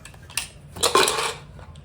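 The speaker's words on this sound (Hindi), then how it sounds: "कुकर हमारा पूरा ठंडा हो गया है। इसे अब हम खोल लेते हैं।" A metal pressure cooker lid is opened after the cooker has cooled, following a cooking session of rice, toor dal and whole wheat, giving two short close metallic clatters and scrapes of lid against pot.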